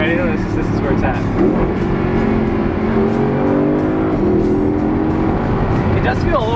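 A manual Audi R8 V10 accelerating hard and downshifting, its loud engine note climbing and dropping through gear changes in a steady, close roar, with a voice talking over it.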